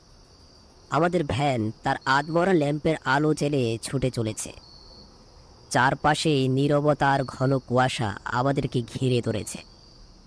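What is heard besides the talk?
crickets chirping in roadside bushes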